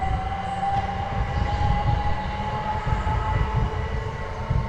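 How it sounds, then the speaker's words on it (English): A train rumbles past on a heritage railway line near a woodland walk, a steady loud roar with a sustained whining tone throughout. "Oh, I think we're here just in time to see the train go."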